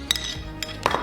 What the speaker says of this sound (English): More mixing.